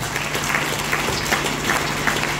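A church congregation applauds during a French-language worship service, a loud, dense, sustained clapping that fills the whole stretch without pause.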